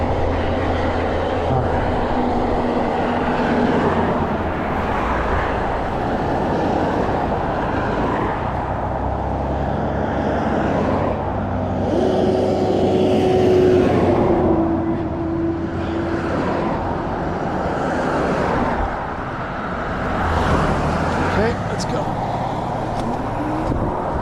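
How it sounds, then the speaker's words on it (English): Road traffic passing around an e-bike rider on a city road: a steady broadband rumble and whoosh of cars with a few swells as vehicles go by, under someone talking throughout. "Actually, the traffic's not too bad."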